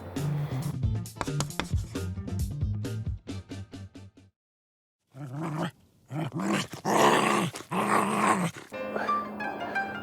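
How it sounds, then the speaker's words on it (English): An Eastern European Shepherd growls and grumbles in rough bursts with a few snorts during tug play, pauses briefly, then resumes with louder throaty growling close by. "Dogs growl commonly during play."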